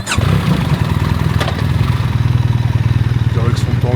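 A BMW GS 1300 motorcycle rolls slowly aboard a ferry at Tarifa port, its engine a steady, close, pulsing low idle throughout with a brief clatter early on, while someone talks over it.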